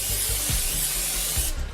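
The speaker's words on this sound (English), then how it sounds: "Here's a little bit of cooking spray in there." Cooking spray hisses into a pan as one continuous close burst, cutting off sharply at the end.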